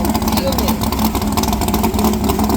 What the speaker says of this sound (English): I want him to rev it.